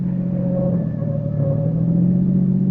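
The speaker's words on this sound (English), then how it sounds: "But I drove Alan Carlin's car like a reckless idiot, taking every curve as if it was a race course." A car driven recklessly fast around curves, staged as a radio drama sound effect: a steady, loud engine drone with rumble and rising revving tone, continuous throughout with no voices.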